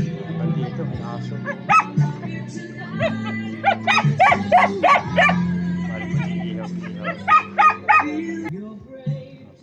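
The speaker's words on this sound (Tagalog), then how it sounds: "Hanggang dito may aso pa siya." A dog barks in repeated short bursts and yips at an 81st birthday gathering, the clusters of barks coming close and loud over a low, steady background hum.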